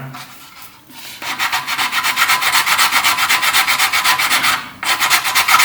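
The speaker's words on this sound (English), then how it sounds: "Give it a rough rubbing down like that, and then I'll go to wet and dry." Sandpaper rubbed by hand over filler on a Dalek model, giving close, steady back-and-forth scratchy strokes in an even rhythm after a brief quieter start, with a short pause near the end before the strokes resume.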